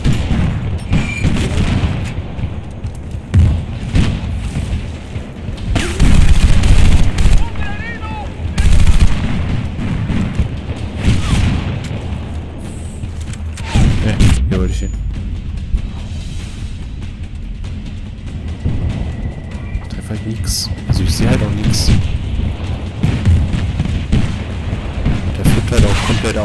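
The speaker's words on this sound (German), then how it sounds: "Ah, das klang nach einer fetten Explosion." Battlefield: Bad Company 2 gameplay with a steady stream of gunfire, machine-gun bursts and heavy booming blasts, including a large explosion, loud and close, with someone talking over parts of it.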